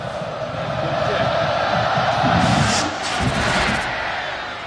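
Sellout stadium crowd at Notre Dame Stadium during a 2006 college football kickoff against UCLA, a loud, continuous roar of many voices that swells and surges slightly midway, with no voice standing out.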